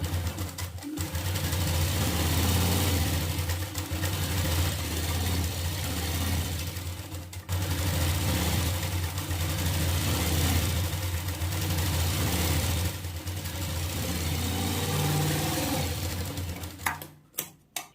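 Electric sewing machine stitching along the very edge of cloth, a loud continuous whirring hum with a short break partway through, ending in a few stops near the end.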